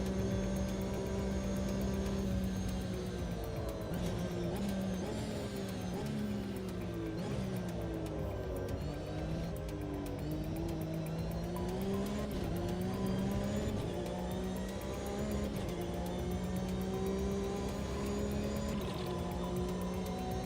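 Race car in a sim racing video game lapping with cold tyres, a steady engine drone rising and falling with repeated gear shifts and revving through corners, continuous and even in level without any talk.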